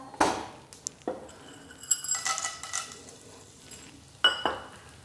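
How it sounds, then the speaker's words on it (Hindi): Edible gum (gond) frying in a pan for laddoos, with sharp metallic clinks and scrapes of a spoon and a soft sizzle in between, close and uneven, with no talk. "तो ये जो हमारा बाकी का गोंद बचा था उसको भी हम इसमें फ्राई कर लेंगे।"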